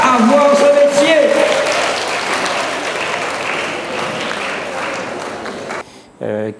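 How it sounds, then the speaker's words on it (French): An audience applauds at an event in Guadeloupe, steady dense clapping that runs loud from the start, gradually thins and cuts off near the end, with a brief burst of speech right afterward. "Oui, vous pouvez vous applaudir hein"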